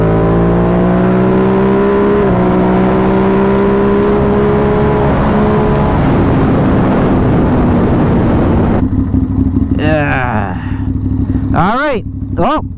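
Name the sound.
tuned Ducati Monster 937 motorcycle engine revving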